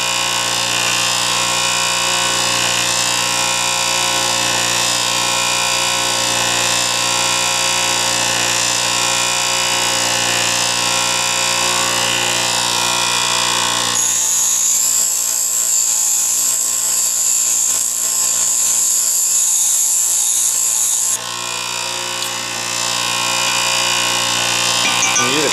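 Lathe threading tool ground on a coarse bench grinder wheel: a steady loud high whine with dense harmonics runs throughout, the tone shifting brighter and more strained midway as the tool bears on the wheel.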